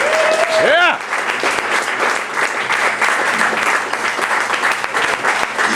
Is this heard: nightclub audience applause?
yes